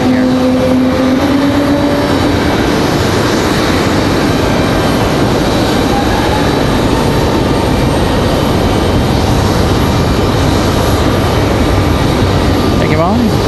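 A Frontier Airlines airliner departs Raleigh-Durham International Airport, its engines giving a loud, steady broadband roar that fills the whole stretch, with people talking nearby.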